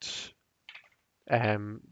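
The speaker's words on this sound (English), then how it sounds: "these cards riffle shuffle really nicely" A short burst of riffle shuffling with a tarot deck gives a quick crisp flutter of cards, followed after a pause by a faint rustle and then a person talking.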